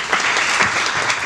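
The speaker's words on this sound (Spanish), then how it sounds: "me gustaría otro aplauso" A short, loud burst of audience applause at a school event, dense clapping from many hands with no other sound over it.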